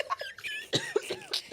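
Several people cough in short, uneven bursts close by, with a few sharp throat noises and small squeaky sounds between them and no talking.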